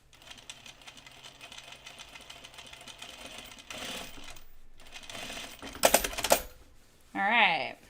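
A sewing machine runs through thick layers of denim at the jeans fly extension, with a steady mechanical whir, a few louder stitching bursts, and a short rising and falling motor whine near the end.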